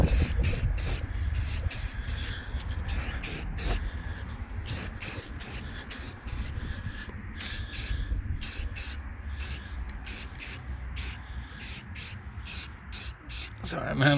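Automotive filler primer paint hisses from a spray can in short repeated bursts, close and loud, with a steady rhythm of on-off sprays and quieter gaps; someone speaks between some bursts.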